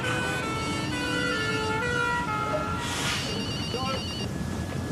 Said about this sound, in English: You hear the sirens? You hear sound, this is the fire engines